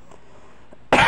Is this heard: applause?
no